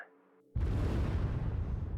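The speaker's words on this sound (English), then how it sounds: "The explosion came from deep within the plant's infrastructure." An explosion sound effect in a zombie story about an industrial plant hits abruptly after a quiet tonal moment, then becomes a loud, sustained deep rumble that fills the rest of the short clip.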